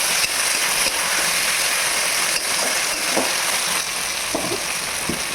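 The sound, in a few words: frying onions in a pan, tomato added and stirred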